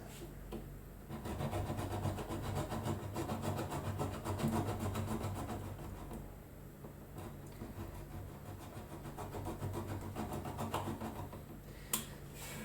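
Wood being cut during repair work on a Taylor acoustic guitar, a steady continuous rasping, rubbing stroke that runs nearly unbroken for the whole stretch, close and dense, with a brief knock near the end and no speech.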